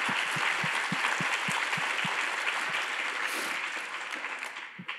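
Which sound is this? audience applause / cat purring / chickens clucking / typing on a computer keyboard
audience applause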